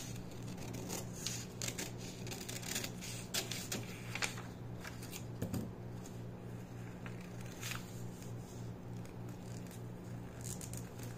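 Scissors cut through a fabric pattern for a blouse top, giving a series of soft, close snips and crisp slicing strokes at an irregular pace over a steady low hum.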